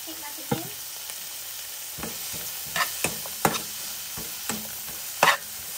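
Minced garlic and chicken stir-fry in a pan under a soft background sizzle, broken by several scattered, fairly faint scrapes and clacks of stirring. There is no talk.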